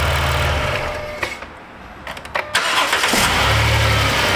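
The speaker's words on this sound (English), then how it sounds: "shut it off, and start it right back up." A Dodge Caravan minivan's running engine is shut off, goes briefly quiet with a few clicks, then cranks and restarts into a steady loud idle, recorded close.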